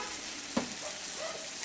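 Lightly boiled peas and fried potatoes sizzling in spices in a pan for Bengali ghugni, a steady close-up frying hiss with a brief stir or scrape, no voices.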